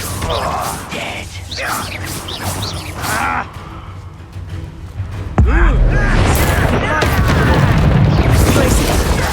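The Confringo explosive spell blast in Hogwarts Legacy, a sudden deep boom midway followed by sustained rumbling combat noise, with shouting voices throughout.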